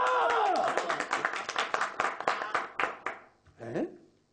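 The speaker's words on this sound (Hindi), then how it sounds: "आप लोगों ने मुझ पर लान तान करने के बजाय तालियां बजाई" An audience in a classroom claps in a burst that thins out into scattered, sharp hand claps and fades away, with a voice speaking at the start and again after the clapping dies.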